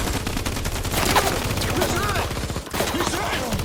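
Film-style gunfire crackles in a dense, rapid series of sharp shots, loud and close, mixed with chaotic action noise and brief shouting voices over a busy soundtrack.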